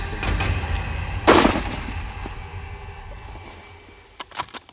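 One loud hunting rifle shot cracks out on an African hunt, close and sharp, followed by a fading tail and a few rustling knocks near the end.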